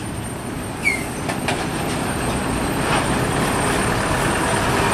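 A single-axle trailer truck rolls past on an Indonesian road, a loud, steady rumble of engine and tyres that builds over several seconds, with a brief high squeal near the start.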